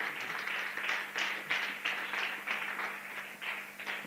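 A church congregation claps in a steady, even rhythm, the applause continuous and moderately close, with a faint hum beneath it.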